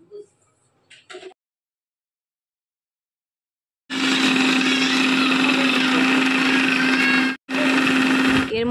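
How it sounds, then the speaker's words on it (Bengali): A kitchen mixer-blender purees roasted mangoes for sherbet. After a few soft clicks and a long silence, the close, loud motor whines steadily, cuts out briefly, then starts again. "এখন আমি এটা ভালো করে ব্লেন্ড করে নেব মিক্সিতে।"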